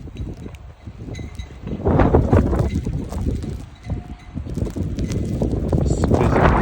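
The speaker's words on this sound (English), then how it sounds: "It's more windy than having snow." Strong wind gusts during a snow storm buffet the microphone outdoors, a loud rumbling roar that swells and eases in waves.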